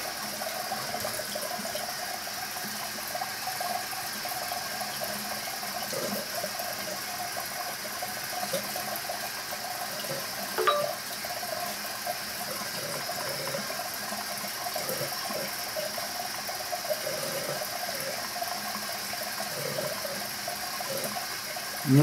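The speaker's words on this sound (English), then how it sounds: "That's why the water is running as it is." Water runs steadily from a bathroom sink tap with no stopper in the basin, a constant close hiss with a faint click partway through and no talking.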